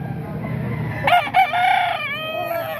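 A one-year-old Boston Sweater gamecock crows loudly and close by at a rooster sale, a broken call with a couple of bursts, over low background rumble.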